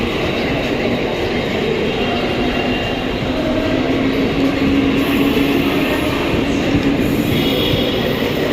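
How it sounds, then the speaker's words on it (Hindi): A Mumbai local train rolls through Churchgate station with a loud, continuous rail rumble, and faint wheel squeals rise and fall over the steady roar. "तो ये है मुंबई लोकल ट्रेन।"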